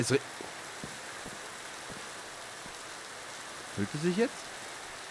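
Steady rain in Minecraft falls as a constant broadband hiss throughout, with a brief voice speaking near the end.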